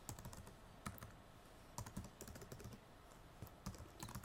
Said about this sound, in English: and then once again we type in the link.